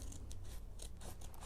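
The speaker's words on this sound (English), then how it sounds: "cutting the zipper off of this bag" Scissors cutting a zipper off a tote bag: a rapid series of short, crisp snipping and crunching bursts, close and fairly loud, with no talking.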